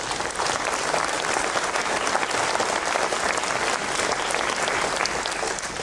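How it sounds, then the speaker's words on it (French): Audience applause after a talk on India's nationalist drift, a full, dense wash of clapping held steadily for several seconds, loud and without pause. "Je pense qu'on peut vous applaudir."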